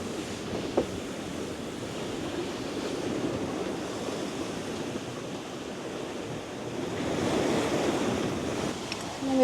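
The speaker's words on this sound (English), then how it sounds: "And here's our waves." Big sea waves roll and wash around a sailing boat off Scotland's Orkney islands, a continuous heavy surf roar mixed with wind buffeting the microphone and swelling louder toward the end.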